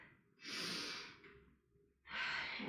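A slow, deep yoga inhale through the nose as a class rises to mountain pose, a long breathy rush, a brief pause, then another breath beginning, close and moderately soft with no talking.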